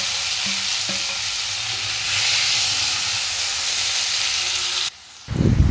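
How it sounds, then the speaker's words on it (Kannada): Chopped tomatoes go into a hot pan for tomato rasam, setting off a loud, continuous frying sizzle and hiss that holds steady and then cuts out abruptly near the end, followed by a brief clatter. "ನಾನಿಲ್ಲಿ 2 ಟೊಮೆಟೊ ಹೆಚ್ಚಿಟ್ಟುಕೊಂಡಿದ್ದೆ, ಅದನ್ನು ಕೂಡ ಈಗ ಸೇರಿಸ್ತಾ ಇದ್ದೇನೆ"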